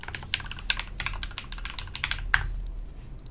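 Rapid close-up clicking of a computer keyboard during a live-streamed singing session, a dense irregular patter of keystrokes with a sharper tap near the end and no talking.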